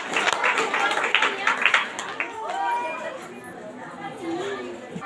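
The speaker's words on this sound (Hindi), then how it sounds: "ये मैं परमेश्वर को जोरदार तालियों के साथ धन्यवाद देती हूँ।" Church congregation clapping in a Hindi-speaking service, a burst of mixed claps and chatter that fades after a couple of seconds while voices keep talking.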